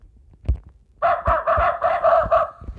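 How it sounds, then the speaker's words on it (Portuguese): Cartoon rooster crowing with hen clucking in a children's animal game app: a brief low sound, then a loud, sustained run of about six pulsing, harmonic crow-like calls, with no talking. "Olha a galinha. Os seus pintinhos."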